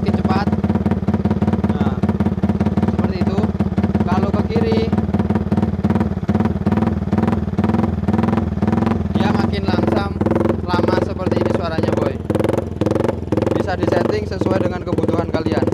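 A Yamaha Vixion motorcycle fitted with a custom aftermarket exhaust runs steadily at idle and low revs, with a dense, loud rumble that continues throughout, growing choppier and more staccato in the second half.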